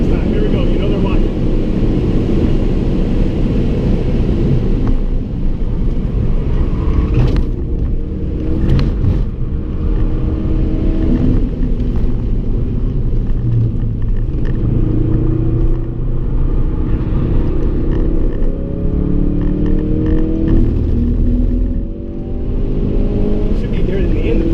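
A sports car is driven fast around the Nurburgring GP circuit, its engine a loud, steady in-car roar with rising and falling rev sweeps as it shifts and accelerates, continuous throughout.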